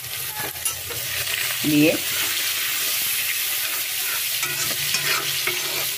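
Chopped onions frying in a pan for a Bengali katla fish-head muri ghanto, with a steady close sizzle and a brief stirring scrape partway through, and a single short spoken word.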